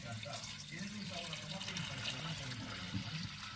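Warm broth is poured into a pot for a lentil stew, a continuous splashing, gurgling stream of liquid heard close by, with a person talking quietly underneath.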